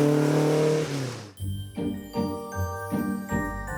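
A Porsche race car on the Tour Auto 2024 road rally roars past, one loud rising engine note dropping sharply as it passes, followed by gear changes and revs fading into the distance.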